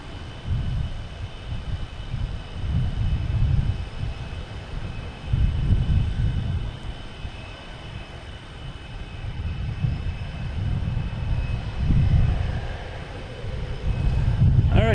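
A jet airliner lands at Boston Logan Airport, its deep, rumbling roar swelling and fading in waves over several seconds, loud and fairly close, with no talk over it.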